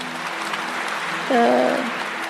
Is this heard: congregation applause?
yes